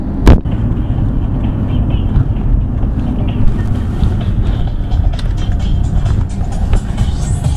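A straight-piped custom exhaust on a Mazda 3 rumbles loud and close with a steady low drone, opening with a sharp pop, while wind buffets the microphone and faint voices come through underneath.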